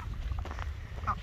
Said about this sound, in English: You are a puddle duck, not a flower bed duck.